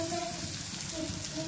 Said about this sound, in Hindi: अब इसमें मैं डालूंगी आलू।